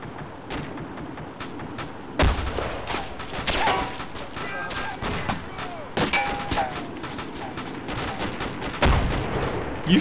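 Gunfire in a tank battle video game, with repeated heavy blasts and sharp cracks over a constant din of combat, plus metallic clangs and pings.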